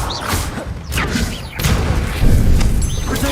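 Confringo blasting spell going off in Hogwarts Legacy: a loud, crashing burst with whooshing debris and rumbling thuds, followed by a second heavy impact about halfway through.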